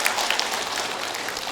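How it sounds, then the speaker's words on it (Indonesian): Crowd applause at an Islamic study gathering, a brief burst of scattered clapping at moderate distance. "tepuk tangan"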